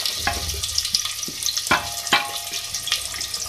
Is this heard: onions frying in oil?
yes